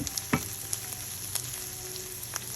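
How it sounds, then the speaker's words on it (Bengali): Onion fries in hot oil with a steady close sizzle, broken by a few sharp pops and light spatters across the short stretch. "পেঁয়াজটা একটু সামান্য ফ্রাই করে নিয়ে একটু গোল্ডেন কালার হলে"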